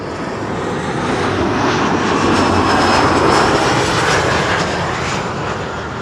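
An airliner comes in to land on runway 06, the Kaagbaan, at Amsterdam Schiphol. It makes a loud, steady engine roar close overhead that swells slightly in the middle and continues throughout, with no voices.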